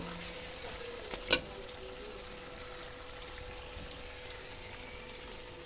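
Chicken, peas and potato curry cooks in a kadai with a soft, steady low sizzle, broken once by a short sharp clink or scrape near the start, otherwise quiet and undisturbed.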